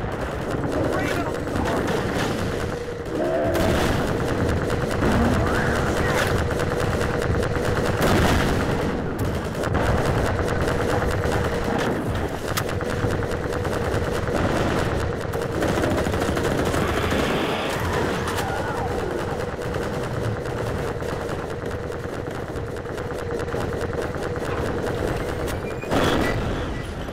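Heavy sustained gunfire in a Half-Life 2 battle at a sawmill, dense overlapping bursts and shots filling the whole stretch, with voices shouting over the fighting.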